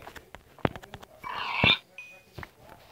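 Short grunting animal squeals from a pig being killed in a survival video game, mixed with clicks and game effects, one brief louder burst in the middle.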